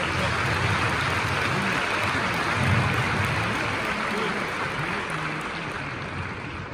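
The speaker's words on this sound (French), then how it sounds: "Et là aussi, on peut applaudir parce que c'est bien du tout." Audience applause at a dressage competition in Bordeaux, a dense, continuous wash of clapping in a large venue that fades slightly toward the end, with a voice speaking over it.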